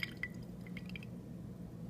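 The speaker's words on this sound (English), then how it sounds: "this is really letting all the water out" Water drips from a water purifier whose flow has been shut almost all the way off, leaving a few faint, sparse drops over a low steady background hum.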